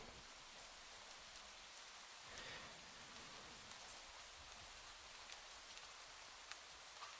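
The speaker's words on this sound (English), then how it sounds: "rain sounds are on" Soft, steady rain plays quietly in the background, a continuous faint patter with occasional small drop clicks and no voices.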